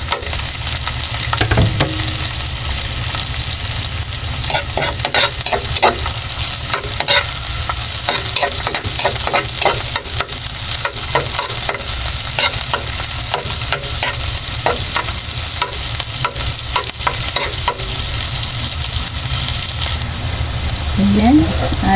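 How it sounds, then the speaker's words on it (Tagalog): Garlic, onion and tomato sauté in a hot pan for a clam soup, a loud continuous sizzle broken by repeated scraping and clacking as a spatula stirs, with occasional speech faintly underneath. "igisa na natin. Sama na natin yung ating sibuyas at kamatis"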